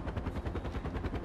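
Rapid rhythmic thudding of helicopter rotor blades in Far Cry 4, dense and loud, blending with gunfire chatter in a short burst.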